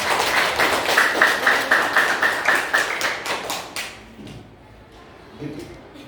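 A classroom of students claps for a classmate coming to the front in a civics lesson, a steady, rhythmic round of hand claps that fades out after about four seconds, followed by quiet and a little talk.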